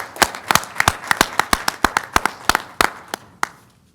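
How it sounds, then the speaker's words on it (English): Sparse applause at a school board of trustees meeting for students and staff, a handful of sharp, separate claps in an irregular rhythm, close and distinct, tapering off toward the end. "Let's have a big round of applause for all of our students and staff."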